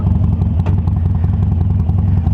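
A Harley Davidson Sportster Roadster motorcycle idling, a loud, steady low rumble with a fast even thump and some mechanical clatter, heard close up and alone.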